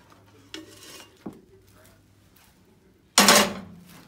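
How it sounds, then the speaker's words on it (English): Sticky Rice Krispie Treat mixture is dumped into an old glass Pyrex dish, giving a few soft thuds and scrapes and then one loud, brief clattering scrape of spoon against the dish near the end. "Then we're gonna dump it in this ancient Pyrex"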